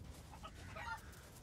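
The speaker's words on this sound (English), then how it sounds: "Chicken!" A chicken clucks in the video game Resident Evil Village, a few faint, short calls in a quiet moment with no talking.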